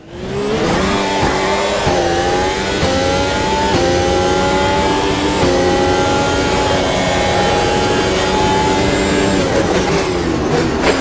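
Racing car engine during a hot lap in the Automobilista sim racing game, a loud continuous high-pitched drone rising and falling through gear shifts, close and uninterrupted.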